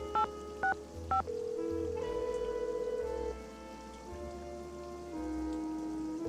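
A phone keypad in Nancy Drew: Danger by Design beeps three quick dial tones, followed by a series of steady electronic tones over a quiet background hum.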